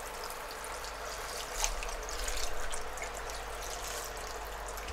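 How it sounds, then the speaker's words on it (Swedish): Ordinary tap water pours into a pot over chopped turnip on a stovetop, a steady soft trickling and splashing that briefly swells in the middle before settling back to a gentle flow. "Och på med helt vanligt vatten."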